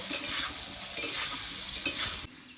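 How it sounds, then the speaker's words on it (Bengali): Salted potatoes fry in a pan until they turn reddish-brown. A continuous, moderately faint sizzle is broken by scraping stirs and light clinks, with no talking. "আলুগুলোকে লাল লাল করে ভেজে নেব"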